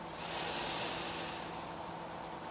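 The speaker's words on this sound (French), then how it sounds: "On prend une respiration ici, on inspire." A long deep inhalation during a yoga class, a smooth breathy hiss swelling early, then sustained and slowly fading, close and fairly quiet, with no talk over it.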